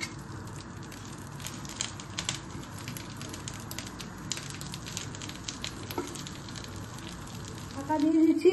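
Chhana paturi parcels frying in a frying pan brushed with a little oil, giving a steady close sizzle and crackle throughout, with a brief louder bubbling burst near the end.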